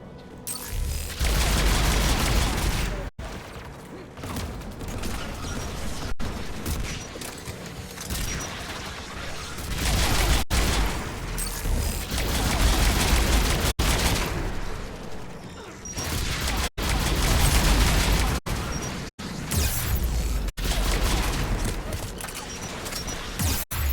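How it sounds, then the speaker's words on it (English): Anti-aircraft guns firing during a video game battle, heard as a dense, loud roar of thudding bursts and booms that swells and fades across the stretch, broken by brief sharp cuts, with no talk. "AA guns ahead."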